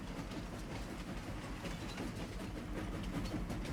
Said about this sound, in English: I am loving the steam train.